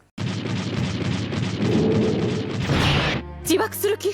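A loud bomb explosion from the anime Neon Genesis Evangelion roars for about three seconds, a dense rumbling blast that cuts off abruptly before a voice begins speaking.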